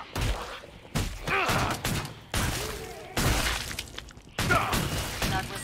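Gunfire in Killing Floor 2 comes in several loud, abrupt bursts of shots separated by brief gaps, with shattering impacts and thuds mixed into each volley.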